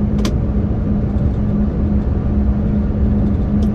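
Cars passing on a highway near Villeneuve, heard as a steady loud road rumble and engine drone with a constant low hum and no clear gaps between vehicles.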